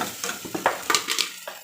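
Potatoes are stirred and mixed in a frying pan for an egg bhapa chop filling, with a quick series of close scraping, clinking spatula strokes over a faint sizzle and no talking.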